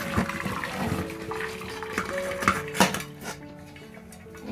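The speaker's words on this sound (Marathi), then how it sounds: "आता ना चालणीमध्ये पाणी त्यांचं काढते मी" Cooked jackfruit water drains and trickles through a sieve, with metal utensils clinking and clattering nearby, close and moderately quiet.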